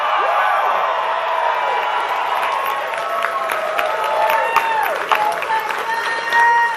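An election night crowd cheers and whoops for a newly elected senator while someone speaks over the noise. The crowd stays fairly loud and continuous behind the voice.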